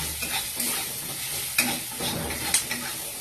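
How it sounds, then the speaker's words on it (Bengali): An egg is stirred and fried with spices in a pan, giving a steady close sizzle with scraping stir strokes and two sharper clinks of a utensil against the pan. "এই ডিমটাকে এবার নেড়ে চেড়ে ভেজে নিতে হবে"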